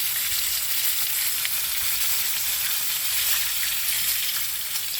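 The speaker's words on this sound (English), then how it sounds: "Sizzling, baby." Cornish hen sizzles loudly in a frying pan, a dense, steady crackle and hiss from start to finish, with no voices.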